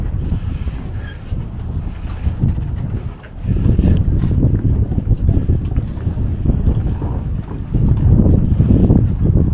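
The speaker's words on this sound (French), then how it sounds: "Bon, il y a du vent." Strong wind at a marina on Lanzarote or Fuerteventura buffeting the microphone in heavy, continuous gusts, a low rumbling roar that swells louder partway through, with no voices.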